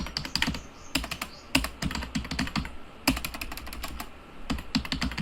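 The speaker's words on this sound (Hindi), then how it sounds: "देख रहे हैं यहाँ मैंने टाइप कर दी 1 2 3 4 5 6 लाइन्स की" Steady typing on a computer keyboard during a Kali Linux setup, with close, crisp keystroke clatter in quick bursts separated by brief pauses, no voices.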